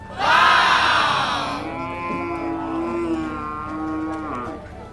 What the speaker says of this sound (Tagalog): Ang kikinis ng mga kalabaw dito sa Dawis, oh.